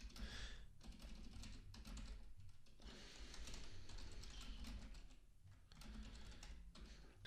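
Quiet typing on a computer keyboard, a continuous run of light clicking keystrokes with brief pauses, close and alone without speech.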